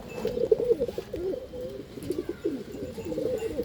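Several pigeons coo in repeated soft, throaty phrases close by, their overlapping calls filling the quiet loft with no speech.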